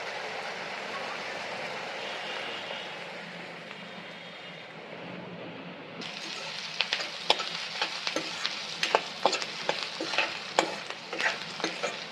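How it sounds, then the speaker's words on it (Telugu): Onions sizzle steadily in a pan of hot oil for a drumstick fry. Partway through, the sound shifts to crisper crackling with sharp scraping stirs, heard up close and without talk. "ఉల్లిగడ్డలు వేగిపోయినాయి కదా"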